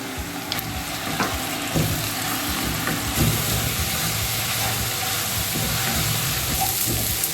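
Onion paste for chana masala frying steadily in a hot pan, a dense continuous sizzle and hiss with faint stirring, close and even throughout, no voices.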